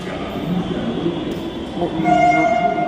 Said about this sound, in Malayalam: ഇതാ ഒരു മെട്രോ വരുന്നു, നല്ല ഭംഗിയുള്ള മെട്രോ.